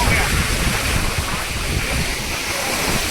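Fast-flowing river water on the Leh to Siachen road roars in a dense, constant rush close by, with wind buffeting mixed in and no break in the torrent.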